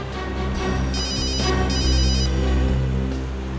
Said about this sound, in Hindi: एसीपी साहब का फोन आ रहा है